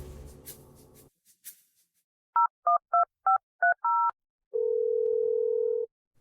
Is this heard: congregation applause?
no